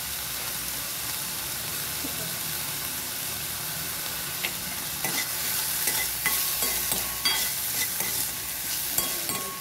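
Cumin seeds frying in a pan of salted vegetables for an easy pasta, giving a steady close sizzle with scraping and stirring clatter that grows busier in the second half.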